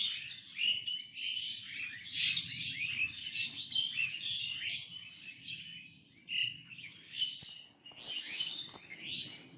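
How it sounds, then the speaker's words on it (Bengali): Morning birdsong from many small birds, a dense, continuous chorus of bright chirps and tweets layered across the whole stretch, fairly close and lively with no voices. "পাখিদের কোলাহল শুনতে পাচ্ছেন?"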